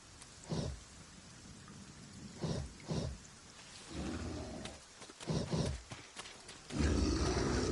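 Rain falls at a campsite as a steady hiss on surfaces, with repeated low rumbling bursts like thunder rolling in at intervals, heard alone without voices.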